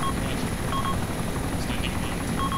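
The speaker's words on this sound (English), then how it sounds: "Get my chopper then." A military helicopter in the ARMA 2 video game drones steadily throughout with a continuous rotor and engine hum at even loudness, no voices.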